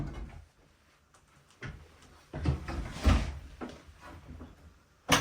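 Drawers in a hotel room kitchenette slide open and shut, giving a few scattered close knocks and rolling thuds with quiet gaps between them, ending in a sharp bump.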